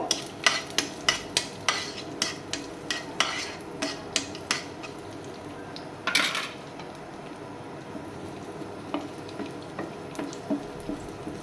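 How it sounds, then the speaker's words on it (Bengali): Raisins frying in a pan, with a steady rhythm of sharp spatula scrapes and clinks against the metal as they are stirred, close and fairly quiet, with no voices. "দিয়ে কিশমিশগুলো আমি ভেজে নেব"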